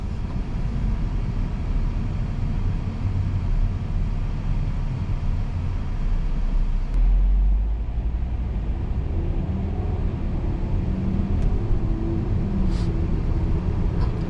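A 2013 Volkswagen Beetle 50s Edition with a 6-speed automatic transmission driving along, heard from inside as a steady low engine and road rumble with a brief thump partway through, with no talk.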